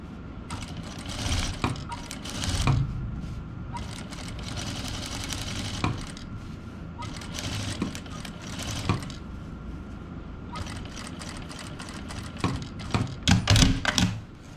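A sewing machine stitches tiers of a ruffled dress in bursts of rapid, even needle chatter, pausing briefly between runs, close and fairly loud with light handling noise and no talk.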